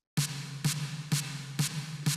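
Five short, crisp snare hits at an even, steady pace, each a sharp crack with a brief ring, played alone.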